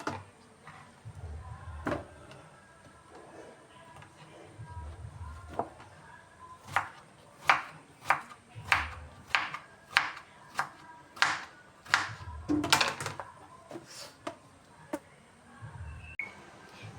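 A knife chops patola (sponge gourd) on a board. A quiet stretch is followed by a run of about a dozen sharp, evenly spaced chops, then a few more scattered cuts.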